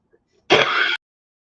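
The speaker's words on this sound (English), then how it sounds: "I'm gonna stop coughing now" A single short, harsh burst from the throat, about half a second long, loud and close, with silence on either side.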